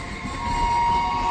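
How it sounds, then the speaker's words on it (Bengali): The Sealdah–Santipur galloping local speeds through Dum Dum Junction, its horn held as a sustained tone over the loud, continuous rush of the passing train. "এখন ক্রস করছে শিয়ালদা শান্তিপুর গ্যালোপিন লোকাল। আর একদম দ্রুত গতিতে হর্ন দিতে দিতে আসছে।"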